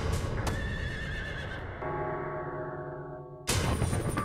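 A bolting horse gives a long, loud neigh that rises and then trails off, followed by a second burst of whinnying, heard close up with no talking.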